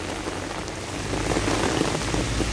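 Heavy rain pours down in Hong Kong, a dense, steady hiss of drops striking surfaces up close, loud and continuous with no speech.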